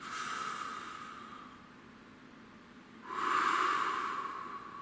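A single deep breath drawn in and let out, a soft airy hiss that swells sharply near the end before fading, heard alone and close with no voices.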